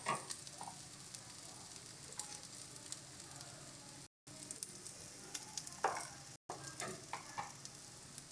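Turmeric, chili and coriander powder fry in a pan for a fish and eggplant curry, a fairly quiet steady sizzle with occasional spatula scrapes and two brief dropouts.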